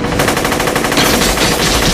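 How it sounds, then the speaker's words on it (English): Sustained automatic gunfire from a shootout scene in the film The Matrix: a dense, loud, rapid stream of shots with no break, heard alone. "only an hour and 20 minutes in, and we finally have some gunfire"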